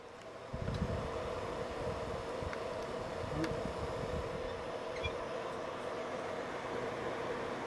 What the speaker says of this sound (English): most of that noise is coming from the cooling fan.